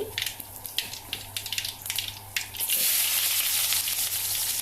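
Mustard seeds, cumin and a dried red chili hit hot oil for a tempering for sambar, crackling and popping in scattered bursts before swelling into a loud, steady sizzle close by, with no speech.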